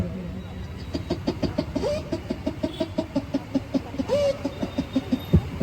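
A man imitates a chicken with his mouth: a rapid, steady series of short clucks with two rising squawks mixed in, close and moderately loud.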